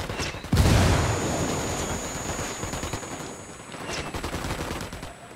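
Rapid bursts of automatic gunfire in the tactical shooter game Ghost Recon Wildlands, a loud sharp blast opening a sustained rattling volley that continues with further overlapping shots, no talking.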